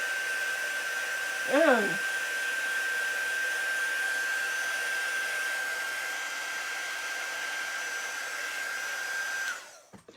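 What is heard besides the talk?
hair dryer drying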